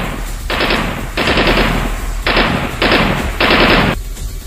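Rapid bursts of HK416 assault rifle fire, four or five sustained volleys separated by brief pauses, loud and close.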